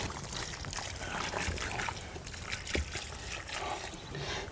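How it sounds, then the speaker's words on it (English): Water poured from a container onto a bag garden, splashing and trickling irregularly onto soil and leaves outdoors, fairly close, with soft rustling between pours. "Then after that, you do a bit of watering."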